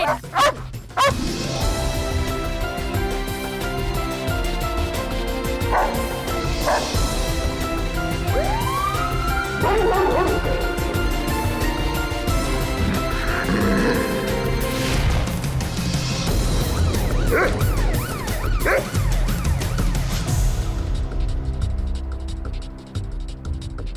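A London Metropolitan Police dog barks loudly and repeatedly up close during a drug raid, with yips and whimpers among the barks and a siren wailing in the background.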